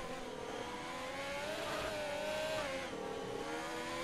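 Alfa Romeo race car engine in an Xbox racing game, a high droning whine that climbs and dips through gear changes, steady and loud throughout, with a faint voice underneath.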